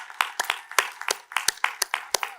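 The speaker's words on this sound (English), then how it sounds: "one more round of applause for all the volunteers who have made this day happen" Thin, scattered clapping at a Hood College undergraduate commencement ceremony for the class of 2021, a small number of hands heard close up, slapping irregularly and unevenly.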